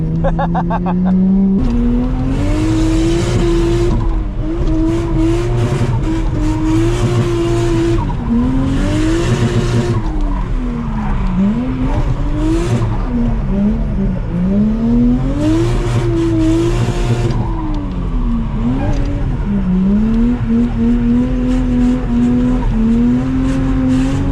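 Tires squeal in long wavering screeches over a revving Toyota JZX110 engine, rising and falling repeatedly as the car drifts through turns on a mountain pass road.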